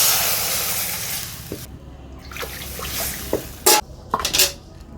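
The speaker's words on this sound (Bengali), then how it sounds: "কড়াইয়ে দিয়ে দিচ্ছি জল" Water goes into a metal wok on the stove, with a brief splash among close clanks and clinks of the pan and utensils in a quiet kitchen.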